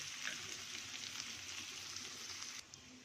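Onion frying in a pan, a steady soft sizzle with faint crackles running continuously, close by, dropping off near the end.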